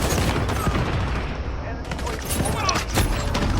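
Rapid gunfire from the video game Call of Duty, comparing Modern Warfare and Black Ops Cold War alpha, with dense bursts of shots filling the short stretch at a loud, steady level and a few sharper cracks near the end.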